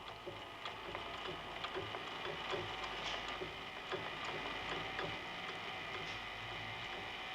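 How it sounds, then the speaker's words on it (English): The clockwork cam mechanism of a 1960s Swiss drawing automaton doll gives a steady whirring hum with faint, irregular ticks and clicks running through it. The sound is continuous and fairly quiet, with no talk. "There's a second mechanism to bring all 12 cams into play"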